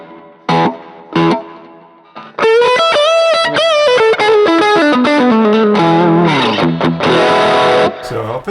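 Electric guitar through a Neural DSP Archetype amp plugin with stereo delay and long-decay reverb plays a few short stabs, then a sustained, harmonically rich melodic phrase with gliding notes, loud and close.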